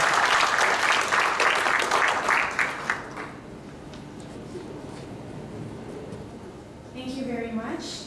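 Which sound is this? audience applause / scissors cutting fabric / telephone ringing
audience applause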